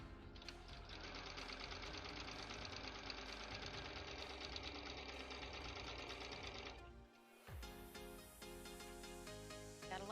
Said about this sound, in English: Really nice canvas, duct canvas fabric right now that I'm sewing.